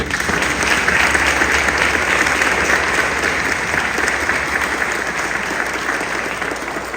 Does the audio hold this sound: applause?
yes